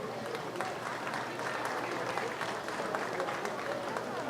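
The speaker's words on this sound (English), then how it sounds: "If we can just give everybody that are volunteers a round of applause." Audience applause for volunteers at a 2023 county 4-H fair swine show, a fairly faint, steady patter of clapping in a large space, with some background voices mixed in.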